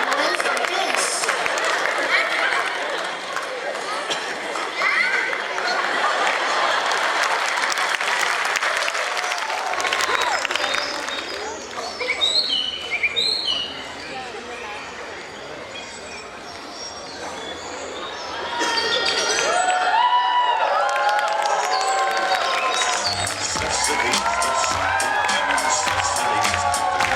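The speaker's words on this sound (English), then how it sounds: "keep clapping and cheering for them" A crowd claps and cheers in a long, dense wave of applause with shouts and whistles, sometimes swelling louder, while voices talk nearby.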